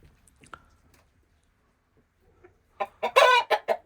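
A group of eight farm chickens clucks. A quiet stretch with scattered soft noises gives way to a rapid run of loud, close clucks at the end.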